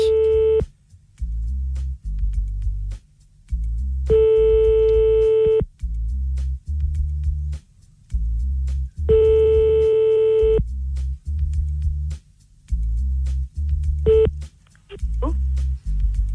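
A telephone number is dialed on a call placed from a radio studio, a run of loud electronic tones in short spaced bursts with low ringback-like tones between them.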